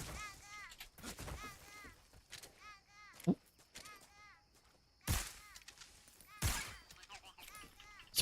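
Sharp gunshots crack out in Metal Gear Solid Delta, several separated reports over about eight seconds, with speech and chirpy electronic game tones running underneath.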